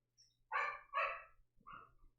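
Pet dog Juno barks indoors: two loud, close barks in quick succession, then a softer, shorter third bark, with a faint low hum in the background.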